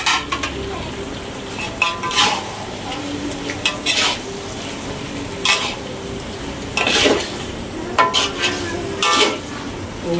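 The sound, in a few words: onions being stir-fried in a pan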